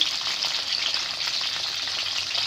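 Fish steak frying in hot oil in a pan, a loud close continuous sizzle with crackling splatters throughout and no talking.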